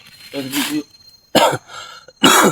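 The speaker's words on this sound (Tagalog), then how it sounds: "Nakakuha lang ubo." A voice speaks briefly, then two harsh coughs burst out a moment apart, each short and fairly loud, close to the listener.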